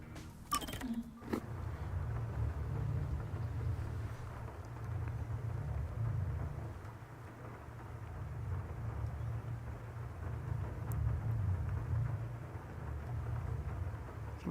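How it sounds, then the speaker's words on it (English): Rain falls in the video game Rain Code, a steady low, rumbling downpour that stays constant throughout, with a brief sharp click near the start. "I can hear the rain."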